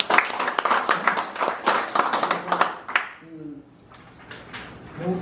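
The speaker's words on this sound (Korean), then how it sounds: "박수 한번 칩시다" Applause at an award ceremony, a crowd clapping loudly and densely for about three seconds before it fades, followed by brief voices and scattered sounds.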